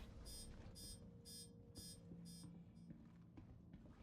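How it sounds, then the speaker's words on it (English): An engineering terminal aboard a ship in Star Citizen gives a steady run of sharp, evenly spaced high beeps, about two per second, over a low humming background with no talk. "that beeping is very centralized to the engineering terminal"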